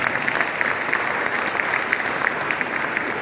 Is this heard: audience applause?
yes